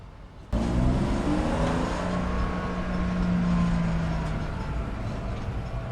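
A lowered BMW E46 330ci track car, its engine revving and pulling hard from a sudden start, steady and close-up from inside the cabin, the drone rising in pitch as it accelerates and holds loud throughout with no talk.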